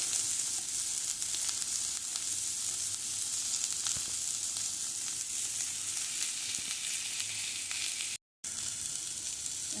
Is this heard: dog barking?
no